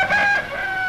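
A long-tailed Japanese rooster crows nearby, a loud, tonal, harmonic call that rises and then trails off within a second, heard alone.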